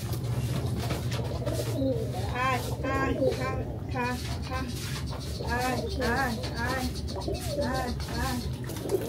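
Pigeons coo in repeated soft, throaty phrases close by, over a steady low hum, with a voice faintly in the background.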